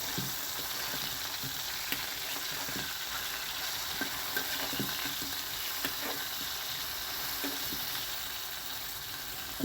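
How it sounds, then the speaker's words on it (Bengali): Fish being turned over and fried in oil sizzles in an even, dense hiss, dotted with light scraping and ticking utensil sounds at irregular intervals. "এখন মাছটা উল্টে দিচ্ছি।"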